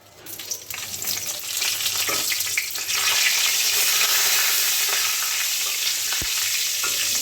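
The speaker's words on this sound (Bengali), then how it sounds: "কড়াইতে যে তেলটা আছে আমি সেটার মধ্যেই এবার ফোড়ন দিয়ে দেবো। গোটা জিরে, শুকনো লঙ্কা আর তেজপাতা।" Whole cumin, dried chillies and bay leaves hit hot oil in a kadai and erupt into a loud, dense, steady sizzle that swells after the first second and holds without talk.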